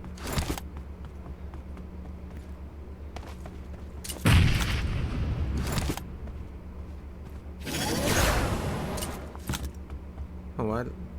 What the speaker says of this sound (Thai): เล่นระเบิดด้วยอ่ะ